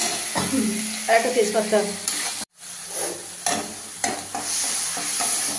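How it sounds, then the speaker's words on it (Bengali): Whole cumin, dry red chillies and a bay leaf sizzle in hot oil for a Bengali potato curry tempering, a steady near hiss with stirring clatter, a brief silent gap midway, and a short spoken phrase over it early on. "আর এখন আমি একটু ফোড়নে দিলাম তোমার জিরে, শুকনো লঙ্কা,"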